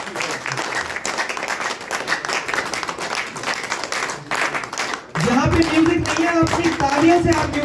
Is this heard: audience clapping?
yes